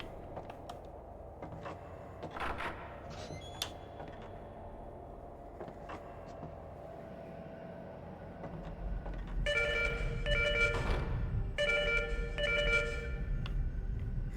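A telephone rings in the horror game Fatal Frame 4: Mask of the Lunar Eclipse. Two long trilling bursts with a short gap between them rise over a low, dark ambient drone in the second half.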